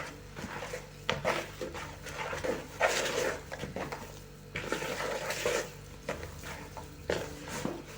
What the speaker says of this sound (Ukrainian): Спочатку місимо ложкою а потім рука.